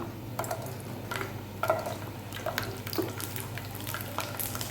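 Garlic and urad dal frying in hot oil in a pan for spicy kara chutney: soft scattered crackles and pops over a low steady hum, fairly quiet and continuous with no talking.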